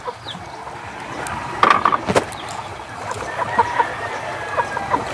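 A chicken clucks in short, scattered bursts over a busy farmyard background, fairly close, with no talk.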